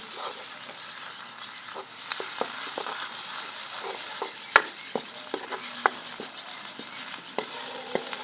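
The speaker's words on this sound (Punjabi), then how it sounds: "ਇਹਨੂੰ ਆਪਾਂ ਚੰਗੀ ਤਰ੍ਹਾਂ ਭੁੰਨਾਂਗੇ ਮਸਾਲੇ ਨੂੰ ਤੇ ਟਮਾਟਰ ਨੂੰ" Tomatoes and spice masala frying in a pan for a dhaba-style potato curry, a steady bright sizzle with sharp clicks and scrapes of a spoon stirring through it.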